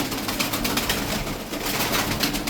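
Tokat tumbler pigeons coo softly amid a busy background hiss, with faint wing flutters and scattered pecking sounds, quiet and steady throughout with no clear voices.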